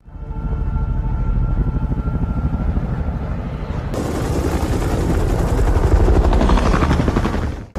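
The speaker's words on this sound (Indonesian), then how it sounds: "Mendengar suara kedatangan helikopter, mereka pun akhirnya terbangun." A loud, steady rotor thump pulses throughout, growing harsher and fuller halfway through as a helicopter draws near.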